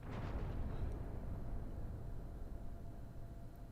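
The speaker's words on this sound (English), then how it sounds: "You heard a thud against the snow," A dramatic explosion sounds on a snowy mountain: a deep, heavy boom hits at once and then rolls off into a long rumble that slowly fades.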